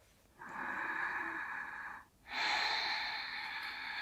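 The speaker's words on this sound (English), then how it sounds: "Deep breath." Deep yoga breath during a high lunge: one long airy inhale, a brief pause, then a longer, slightly louder exhale, close to the microphone with no talk.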